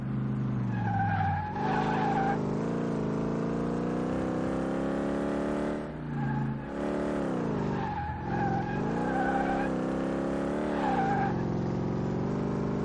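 A Corvette in the Car Mechanic Simulator 2018 video game skids around a track. Long, loud tire squeals rise and fall over a constantly revving engine through several corners, with no talking.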